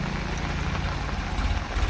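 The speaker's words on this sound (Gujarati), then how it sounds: "અને ટ્રેક્ટર જાય છે અત્યારે" A tractor's low, rumbling diesel engine chugs steadily nearby as it passes on a waterlogged village road during heavy rain, a heavy throbbing drone with no voices.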